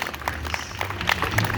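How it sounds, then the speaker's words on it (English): A street crowd at the Ottawa Buskerfest claps for a busker, a scattered round of applause with individual claps standing out over low outdoor rumble. "A big round of applause"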